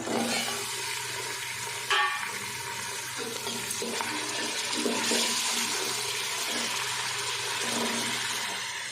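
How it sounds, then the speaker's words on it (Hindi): Meat frying with black pepper and whole spices in a pan, a soft continuous sizzle and bubbling with occasional stirring scrapes, fairly quiet throughout. "इसको भी साथ साथ हम अच्छे से गोश्त के साथ भून लेते हैं"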